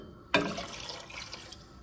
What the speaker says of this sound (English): I'm going to add my 2 cups of water